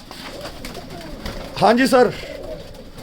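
Sialkoti pigeons coo nearby, one clear throaty coo rising briefly over a voice and faint background murmur.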